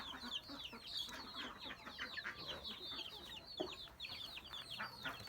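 Free-range native chickens cluck in a coop on a small farm that also keeps ducks, a steady run of close, quick clucks and squawks with no talk over them.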